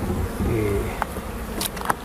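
Honey bees buzzing around a hive, a steady low insect drone with a few brief sharper clicks near the end, fairly close and continuous.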